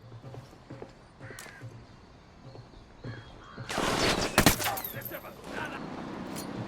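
Gunfire in the video game Ghost Recon Wildlands cracks out as a loud, dense burst of shots after a quieter stretch of ambient game noise and faint clicks.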